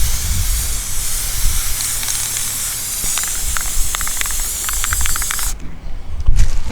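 A spray gun laying the first coat on a fiberglassed guitar case, producing a loud, steady hiss close by that runs for several seconds and then cuts off abruptly.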